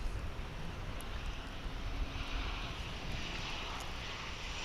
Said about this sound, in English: Coming in from San Antonio in Texas, this American Airlines 737-800.